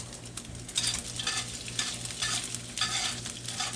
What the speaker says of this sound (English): And then fry it.